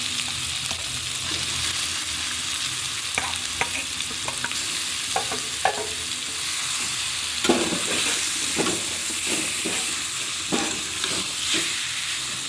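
Taro leaves hit a hot pan and fry with a steady bright sizzle, while a spoon or spatula scrapes and stirs them in repeated clattering strokes through the whole stretch, close and fairly loud.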